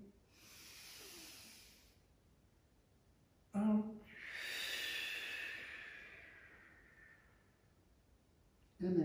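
A person breathing deeply during a seated chair yoga practice: two long, soft airy inhalations, close and quiet, separated by a short voiced sound, with no talk over them.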